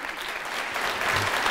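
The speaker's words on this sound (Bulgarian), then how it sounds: "усещате колко добре пляскат?" An audience clapping at the opening of the QA: Challenge Accepted 4.0 conference, a dense steady round of applause held throughout.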